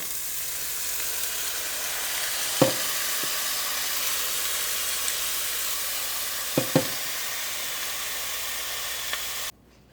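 Chopped vegetables sizzle steadily in a hot pan with turmeric, a constant hiss of frying broken by a few faint clinks of a spoon against the pan.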